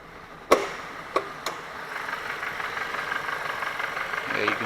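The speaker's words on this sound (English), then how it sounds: "see the engine shaking" A rough-running car engine idling and misfiring gives off a continuous low rumble, broken early by a few sharp, uneven clacks, with a faint rattle rising near the end.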